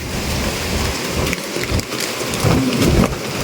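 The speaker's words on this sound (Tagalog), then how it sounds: "Hindi pa ganito yung gusto kong ulan." Heavy rain pours steadily during Typhoon Kristine, a dense, close hiss drumming on surfaces, with low rumbles of thunder rolling underneath and no talking.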